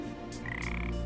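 A frog croaks close and clear in a few rough pulses over a dense, steady background bed of sound.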